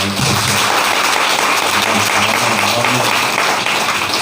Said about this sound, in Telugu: ఉత్సాహంగా ఉన్న వారందరూ చప్పట్లు కొట్టి దేవుని